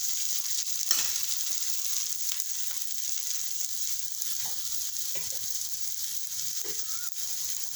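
Adai, a lentil pancake, frying on a pan with oil poured around its edge, giving a steady close hiss of sizzling with a few soft scraping and tapping sounds over it.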